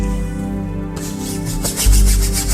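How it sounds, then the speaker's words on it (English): A paintbrush loaded with Prussian blue rubs on canvas in short, scratchy strokes, close and fairly loud, with a heavier scrubbing stroke near the end. "I'll just sort of rub a little of that right here on the canvas"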